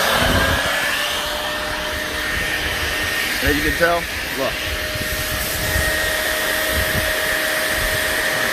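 A wet vacuum sucks up water, roaring steadily with a constant whine of suction, while a voice speaks briefly over it.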